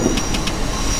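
An NYC subway train on the Flushing Line 7 in World of Subways 4 rumbles steadily as it slows toward a station, giving a low, continuous rolling drone with faint periodic clicks and a thin high whine.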